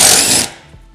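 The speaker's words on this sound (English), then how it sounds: "Now we're gonna use a T50 Torx bit to remove our D-rings." Ratchet driving a T50 Torx bit to remove D-rings while installing a Weather Guard CabMax partition in a GMC Savana van: one loud, close burst of rapid ratcheting that cuts off after half a second.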